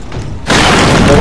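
A marksmanship shot strikes an enemy in the video game Psychonauts, landing as one loud booming thud that holds on as a heavy rumble, with a voice speaking beforehand.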